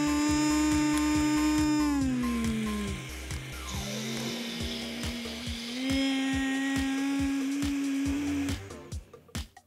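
Countertop blender whirring steadily as it blends water into a homemade natural juice, the motor pitch dipping and rising as the load changes, loud and close, then cutting off near the end.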